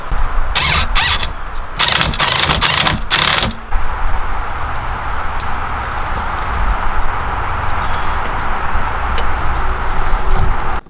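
Ratchet wrench tightening while an Audi S4 steering wheel goes into an S4 Avant, a few quick bursts of clicking in the first few seconds, then a steady mechanical hum with faint ticks.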